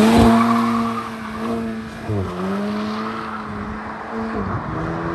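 Engine note of a 2022 Volkswagen Polo GTI facelift with a light bar, heard from inside while driving, holding a steady drone with a gear shift dip midway before climbing again.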